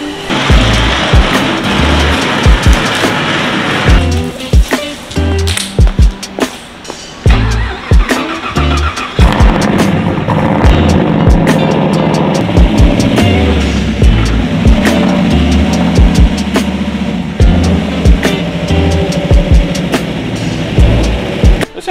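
Supercharged LS2 V8 swapped into a BMW E46 idling and blipping, with sharp repeated revs and bursts over a lumpy running rumble, close and loud, plus clicks and knocks around it.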